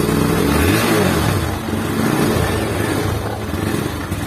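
A Honda Beat scooter engine that seized after running without oil runs close by, idling roughly with uneven sputtering and a brief rev early on, steady and fairly loud throughout.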